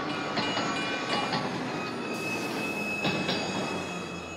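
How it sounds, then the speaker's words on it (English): A train rolling on rails in the video game Splatoon 3, with a steady loud rumble of wheels, sustained high squealing tones and occasional clicks, heard alone without talk. "I love the transition on the train too."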